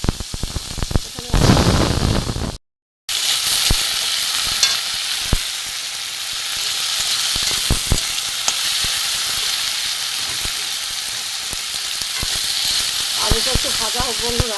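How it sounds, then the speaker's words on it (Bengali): Potatoes frying in oil with dry red chili, bay leaf and whole cumin in a pan for vegetarian chickpea ghugni, a loud continuous sizzle with stirring scrapes and clatters, briefly cut out near the start. "আলুটা একটু ভাজা হোক বন্ধুরা"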